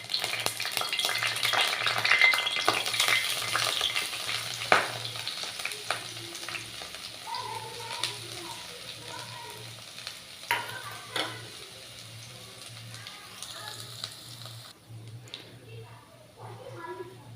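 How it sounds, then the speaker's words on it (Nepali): Garlic and dried dalle chili frying in a pan, a soft continuous sizzle and crackle with occasional stirring clicks, quiet and close, with faint voices in the background. "यो लसुन र खोर्सानी यतिको फ्राई भइसकेपछि"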